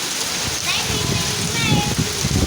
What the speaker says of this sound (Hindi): बड़ी तेज बारिश आ रही भाई